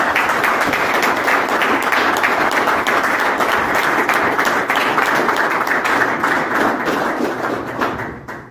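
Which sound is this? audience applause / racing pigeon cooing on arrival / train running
audience applause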